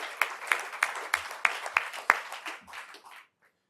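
At a school district board meeting, a small group applauds a retiring staff member who served 30 years in education. The clapping is sparse and rhythmic with a few sharp individual claps, then fades to silence after about three seconds.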